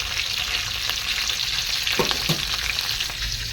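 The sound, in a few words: green chilli and onion frying in pan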